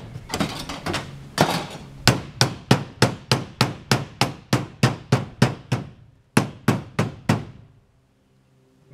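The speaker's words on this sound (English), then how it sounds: "Amazing what a hammer can do." Hammer blows on a roof during a repair, a rapid run of about twenty sharp, loud, evenly spaced strikes with a short pause partway through, ending in quiet.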